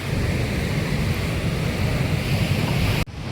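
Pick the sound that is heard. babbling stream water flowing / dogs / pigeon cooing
babbling stream water flowing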